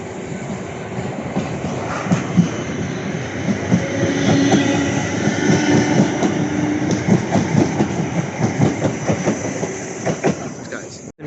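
A British Rail Class 455 electric train passes through Clapham Junction station, close and loud, with rhythmic clickety-clack of wheels over rail joints building and then fading, and faint voices in the background.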